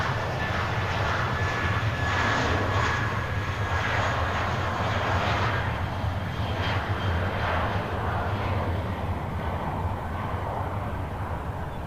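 An American Airlines jet at Nashville International Airport roars with a loud, sustained engine rumble and whine, holding steady and easing slightly toward the end.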